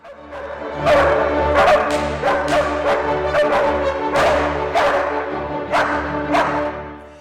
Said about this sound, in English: 6 bars of the symphony could be accompanied by baying hounds